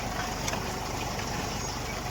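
A tractor engine runs steadily in a field during sowing work, a continuous close, even rumble with no clear breaks.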